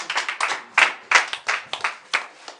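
A church congregation claps in rhythm to acclaim the Lord, with sharp, close, repeated bursts of hand claps and no speech over them.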